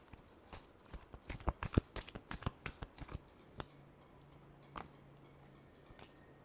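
A deck of tarot cards is shuffled by hand, giving a quick run of crisp riffling flicks and slaps for about three seconds, then a few soft isolated taps in a quiet room.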